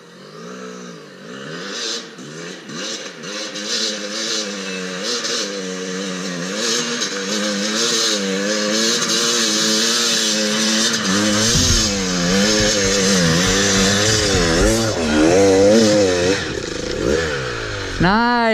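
Dirt bike engine revving hard on a muddy private-property hill climb with a burning clutch, a loud, close, wavering snarl that rises and falls repeatedly and holds for most of the stretch, with voices talking over it.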